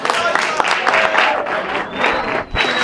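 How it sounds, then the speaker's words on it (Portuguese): Audience applause breaks out in a church gathering, dense steady clapping filling the room with scattered voices mixed in, continuing loud throughout with a brief dip near the end. "Uma salva de palmas"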